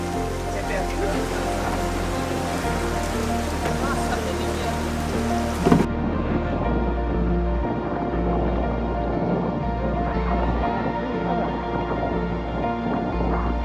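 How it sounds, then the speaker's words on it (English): Rain and thunder during a squall aboard an offshore racing yacht at sea: a dense, steady hiss of rain with a low rumbling underneath and one sharp knock, continuous and fairly close. "While the fleet are fighting squalls and showering in the rain"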